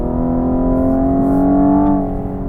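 Cadillac CT5-V engine and exhaust heard from outside the car, a loud steady drone whose pitch climbs slightly before dropping off near the end.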